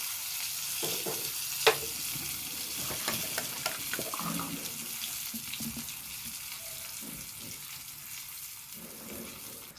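Hot tempering poured into a buttermilk curry in a home kitchen, a broad hiss and sizzle that fills the whole stretch, with a sharp clink early on and light stirring and liquid sounds underneath.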